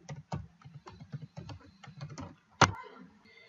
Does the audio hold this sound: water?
no